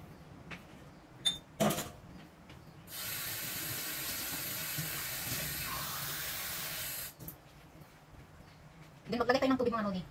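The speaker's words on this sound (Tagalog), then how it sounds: "Then maglagay tayo ng tubig" Water pours steadily into a bowl of glutinous rice with a hissing, splashing rush for several seconds, framed by brief clinks and handling noises before and after.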